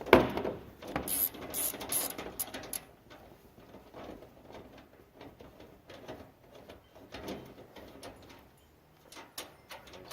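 A Torx bit driver backs screws out of an IBC tote tank frame, giving bursts of whirring and clicking at close range, loudest at the start, then fainter intermittent mechanical rattles.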